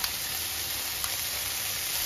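Funchoza noodles with chicken and vegetables fry in a pan after a splash of soy sauce, giving a steady, close sizzle with a faint scrape of stirring partway through, no voices.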